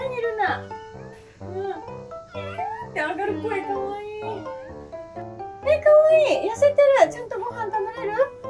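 A cat meows repeatedly and loudly up close, with drawn-out, wavering cries and short caterwauls, while people talk softly in the background.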